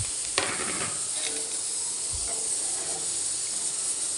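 A steady, fairly quiet sizzle and hiss from a pan of ghee-fried rice as water goes in, with a couple of sharp clinks and stirring scrapes near the start.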